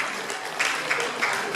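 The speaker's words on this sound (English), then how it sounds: "A round of applause to this wonderful speech." Audience applause following a speech at an Igbo community union gathering in Bremen, a steady wash of clapping with a few louder bursts, continuous for the whole short stretch.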